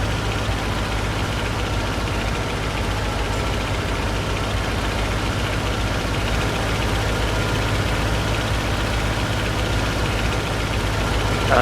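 Mitsubishi A6M2 Zero engine in the War Thunder flight simulator, set for a slow endurance climb with takeoff flaps. It holds a constant, loud, low droning hum throughout with no voices over it.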